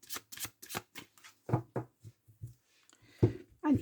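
Playing cards are shuffled and riffled up close, a rapid series of soft flicking bursts with brief pauses, fairly quiet and with no voices.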